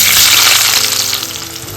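Red onions hiss and sizzle loudly in hot oil in a pan, a steady close crackle that fades slightly over the short moment.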